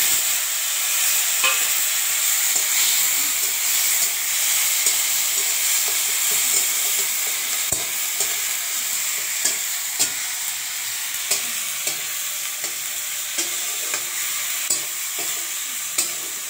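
Onions frying with cumin powder in a pan for an egg and soybean curry with potatoes, a steady loud sizzle with scattered scraping clicks of stirring throughout, no voices.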